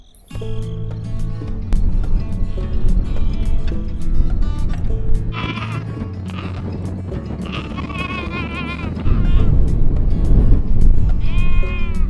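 Sheep bleat repeatedly over a dense, steady layer of music, their wavering calls standing out several times through the middle and toward the end.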